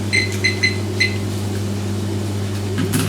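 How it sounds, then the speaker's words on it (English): A kitchen oven being set for two minutes: several short, high electronic beeps in quick succession over a steady low appliance hum, with a final beep near the end. "I'm going to say 2 minutes in my oven."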